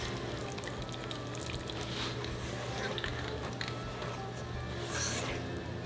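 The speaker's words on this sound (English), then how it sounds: "Immediately pour this mixture onto your powdered sugar." A hot chocolate frosting mixture, just brought to a boil, is poured onto powdered sugar for a sourdough-discard chocolate cake. It makes a soft, continuous, faint pouring hiss with small splatters near the end.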